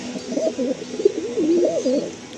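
Pigeons in a breeding loft coo in a clear, close, rolling sequence of throaty calls that rise and fall over a quiet background.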